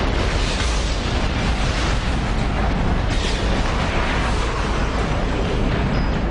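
A gas explosion in a hotel in Singapore, heard as a loud, sustained roar and rumble that fills the whole stretch without letting up, dense and close, with no voices.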